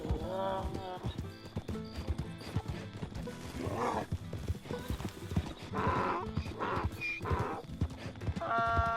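Donkey hooves clip-clop in Red Dead Redemption 2, a steady run of close hoof strikes with game music and scattered voices talking over them.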